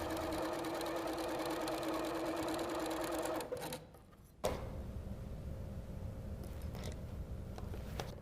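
A sewing machine stitches a seam, a fast, steady mechanical whir that briefly stops and then resumes, fairly quiet and close.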